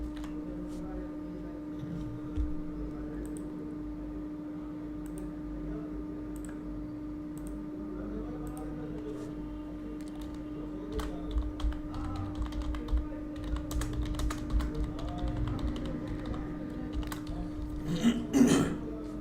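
Computer keyboard typing during a forex trading webinar, scattered light key clicks that grow busier toward the end, with a steady electrical hum underneath and a brief throat clearing near the close.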